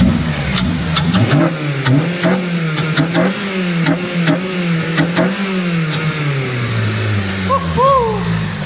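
A Honda Civic Type R FN2 with a K20 engine, Tegiwa exhaust and HKS intake revs hard and close, with a string of quick, loud throttle blips rising and falling before it settles back toward idle.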